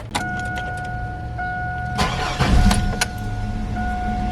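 A car engine cranks once and catches after a battery and alternator replacement with a Big 3 wiring upgrade, settling into a steady idle, close and loud, with faint electrical whine underneath.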